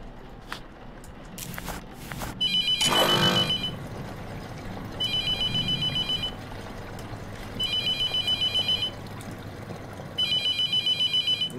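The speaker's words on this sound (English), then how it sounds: "Not answering that phone call." A telephone rings in the horror game The Mortuary Assistant, repeating bursts of a high electronic trill separated by pauses, with footsteps and a clattering noise early on.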